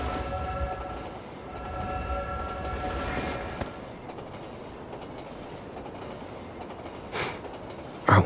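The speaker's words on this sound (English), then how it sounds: "Hold on tight. The train is about to leave." Train pulling away in the video game Love and Deepspace: steady rumbling rail noise with whistle-like tonal hums early on, then a brief hiss and a clunk near the end, with no talking.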